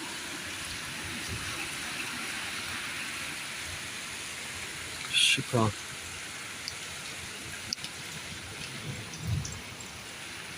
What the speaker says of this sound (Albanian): shi I madh gjithandej.